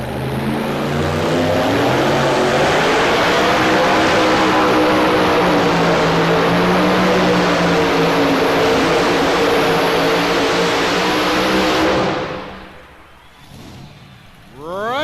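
Keith Long's Chevy S10 pull truck, Long Gone, roars under load at a farm machinery show, a loud sustained engine drone with rising pitch that cuts off sharply near the end before revving again.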